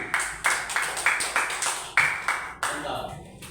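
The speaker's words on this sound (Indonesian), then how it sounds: "Tepuk tangan dulu untuk kelompok jagung." A classroom of students applauds the corn group, with a burst of clapping that swells and pulses with rhythmic accents, fairly close and loud, then thins out toward the end.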